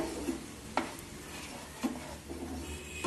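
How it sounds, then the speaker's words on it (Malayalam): Chicken masala spices stirred in a pan, a soft continuous scraping sizzle with a few sharper spoon clacks against the metal, close and alone without talk. "എന്നിട്ടിത് നല്ലതുപോലെ ഇളക്കി യോജിപ്പിച്ച്"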